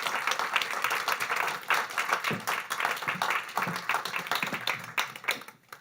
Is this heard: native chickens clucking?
no